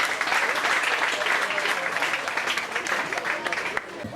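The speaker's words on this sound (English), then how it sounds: "Please, can we give him a round of applause?" A crowd gives the chairman a round of applause at a school career exposition and inter-school grand finale: sustained dense clapping with some voices mixed in, fading slightly at the end.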